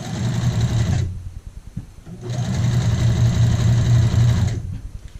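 A sewing machine stitches the side seam of a skirt at a 2.5 stitch length, running loud and close in two steady bursts separated by a brief pause.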